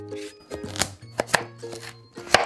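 A knife cuts peeled carrots into cubes on a board, several sharp irregular chops landing close by with short gaps between them, alongside faint tonal background sounds and no talking.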